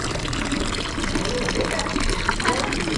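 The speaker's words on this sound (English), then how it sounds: "You just fill your water bottle." Water gushing steadily from a public drinking fountain in Appenzell, Switzerland, as a water bottle is filled, a continuous close splashing flow with people talking over it.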